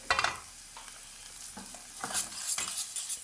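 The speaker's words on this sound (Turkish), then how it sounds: "Bu sırada pidelerimizi de gayet güzel bir şekilde kavruluyorlar." Pide bread toasts in a frying pan in a home kitchen for tereyağlı iskender, giving a soft sizzle broken by a few scraping, clinking stirs and utensil knocks, with no voices.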